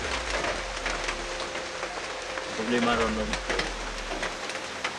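Heavy rain falls in the mountains, a dense, steady hiss of drops pattering on surfaces close by, with someone briefly talking over it and a low hum underneath.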